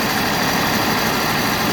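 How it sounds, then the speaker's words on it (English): The engine of a Timberking 2220 sawmill runs steadily at idle, a constant loud low rumble with no change in pitch or rhythm and no talking. "Touch the green button right there one time. Engine cranks up."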